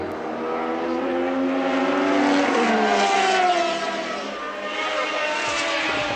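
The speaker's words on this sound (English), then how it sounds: "I'm just listening to the Renault of Arnoux as he went past, and his engine sounds distinctly rough" A Renault turbo Formula 1 car from 1981 at the British Grand Prix passes by with a continuous loud engine drone that rises and falls, sounding rough and uneven, with no speech.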